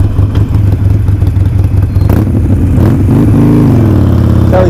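A Harley Davidson Iron 1200 motorcycle with a pre Hi Flow air cleaner and fuel pack rumbles loud and close while riding, a deep throbbing engine note that rises and falls through a rev and shift.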